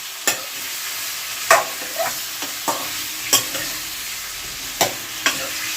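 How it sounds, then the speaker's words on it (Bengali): Potatoes and cauliflower, rubbed with salt and turmeric, fry lightly in a pan, a steady sizzle under sharp intermittent scrapes and taps of a spatula, close and without speech. "ভালো করে আমি এখন এটাকে একটু হালকা করে ভেজে নেব।"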